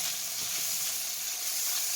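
Small pieces of bacon frying in a pan, a soft, even crackling sizzle heard close but fairly quiet, steady with no voices.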